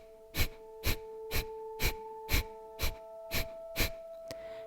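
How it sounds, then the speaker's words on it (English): Eight sharp, forceful nasal exhales in a steady rhythm about half a second apart, each a short breathy burst, made during breathing practice over a soft steady musical drone. "we will exhale by squeezing the abdominal muscles and sharply letting the exhale come out of the nose"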